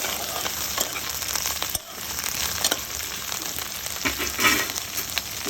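Okra frying in a pan for a Telugu okra pulusu: a steady, close, crackling sizzle that runs the whole time with only a brief dip partway through, and no talking.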